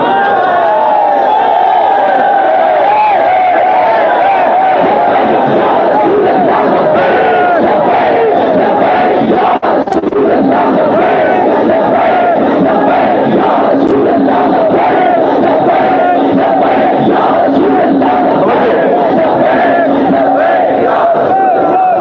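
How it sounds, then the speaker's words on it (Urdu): A large crowd at a religious-political street protest roars and chants in loud, continuous unison, voices massed together with no breaks across the whole stretch. "یہ دیکھو ہمارے M N A M P کیسے جناب لبیک کے نعرے لگا رہے ہیں"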